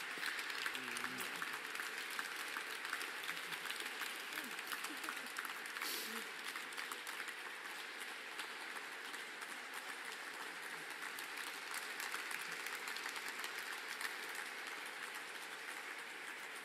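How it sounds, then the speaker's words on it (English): A lecture audience applauds at length after a peace lecture, a continuous even patter of many hands from a hall, with faint voices briefly audible early on. "Well-deserved applause indeed."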